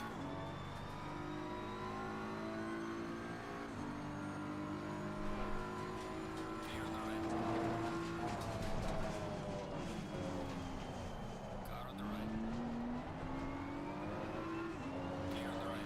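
A BMW accelerates hard in a racing game, its engine rising in pitch through several gear changes with audible shift drops, a steady close whine of revving throughout at moderate level, and a voice speaking briefly.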